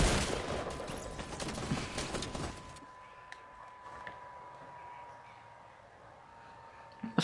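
Rapid video game gunfire rattles loud and dense for about two and a half seconds, then breaks off, leaving a quiet hum with a few faint clicks and a small burst at the end.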